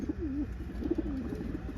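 Pigeons cooing inside a loft, a couple of warbling, rolling coos rising over a steady low murmur of other birds nearby, moderately loud and close with no voices.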